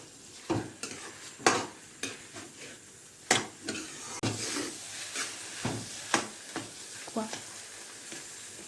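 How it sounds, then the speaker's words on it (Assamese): Fish and rice pulao stirred in a frying pan, a utensil scraping and clacking in repeated strokes over a steady background sizzle, close and moderately loud. "মই লৰাই দিছোঁ, সিজিছে"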